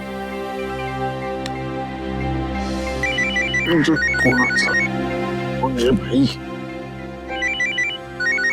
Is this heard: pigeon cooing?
no